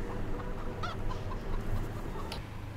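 Farmyard chickens cluck in short soft calls over a constant hum and rumble of background noise, with a few brighter clucks standing out near the middle.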